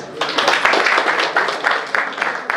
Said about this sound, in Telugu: big claps please